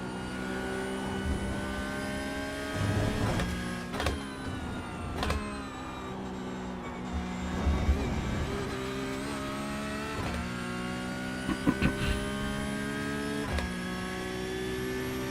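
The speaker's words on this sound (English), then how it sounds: "Yeah, I love that decel sound." Race car engine in the sim racing game iRacing, droning with steady tonal harmonics that shift in pitch as it winds down and picks up, with short sharp pops and gear changes, loud and continuous.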